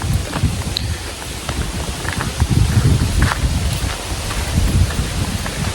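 A strong wind blows hard and steadily, buffeting the microphone with a low roar and gusty rustling throughout.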